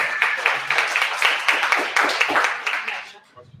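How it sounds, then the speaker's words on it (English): An audience at a healthcare conference claps after a presentation, brisk applause with distinct rhythmic hand claps that quickly tapers off near the end, a voice briefly audible as it fades. "All right, big round of applause"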